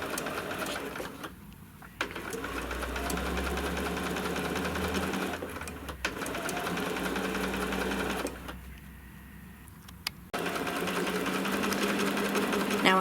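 A sewing machine runs steadily while stitching a seam down fabric for a peppermint pillow, its close, continuous whirring motor pausing briefly twice before resuming.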